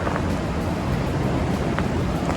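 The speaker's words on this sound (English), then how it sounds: "And we have a river flowing here" A muddy, milky river runs near Takakkaw Falls in a Canadian national park just after rain, a steady close rushing roar with no break.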